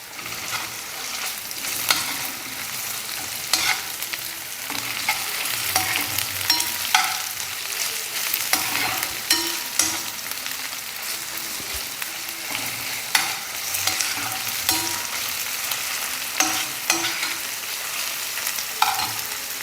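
Onions with a tablespoon of ginger garlic paste sizzle steadily in a frying pan while being stirred, with repeated scraping clicks of the spoon against the pan across a continuous frying hiss, no voices.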